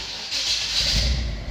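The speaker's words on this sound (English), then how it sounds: "and then the compressor, you can hear the compressor in the background." A steady hissing mechanical hum from the air ride compressor on a 1948 Chevrolet Stylemaster runs continuously in the background, moderately loud with a slight rise partway through.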